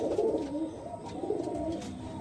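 A desi high-flyer pigeon, a blue-green male, coos close by in low, rolling throaty phrases, repeating several times without any talk over it.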